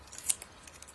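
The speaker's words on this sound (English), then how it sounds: "Let's just trim that off a little bit." Scissors trimming washi tape, a few quiet close snips with one sharper cut standing out against a faint room background, no speech.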